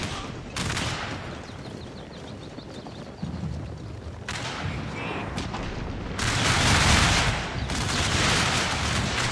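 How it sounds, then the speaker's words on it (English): Musket volleys in Shogun 2 Total War, heard as a rolling crackle of massed shots that swells into dense bursts around the middle and the end, mixed with a broad battlefield rumble. "Second volley there."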